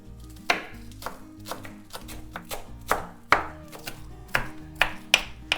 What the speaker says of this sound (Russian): Пару перьев зеленого лука нарезаю мелко